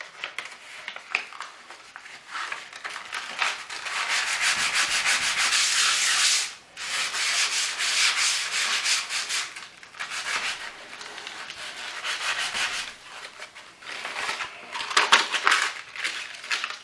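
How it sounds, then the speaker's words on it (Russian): Fine 120-grit sandpaper is rubbed over a wooden stand to prepare it for pyrography, giving close, rasping back-and-forth strokes in bursts with brief pauses. "Наждачка помельче чуть-чуть пройтись, чтобы можно было карандашом водить"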